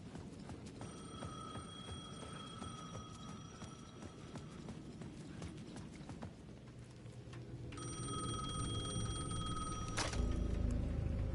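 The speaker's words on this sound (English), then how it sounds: "The payphone at the edge of the plaza was ringing again." Payphone ringing in a plaza in the video game Alan Wake 2, heard in two bursts of electronic ringing over a steady ambient wash and rhythmic knocking, moderately distant, with the atmosphere swelling louder near the end.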